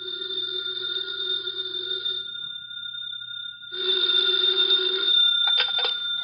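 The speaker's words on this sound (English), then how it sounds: "the phone in the Lawrence house on Berry Hill Lane began to jingle" A telephone rings inside a house on Berry Hill Lane, two loud bursts of jangling bell trilling separated by a brief pause, close and alone, in an old 1950 radio drama.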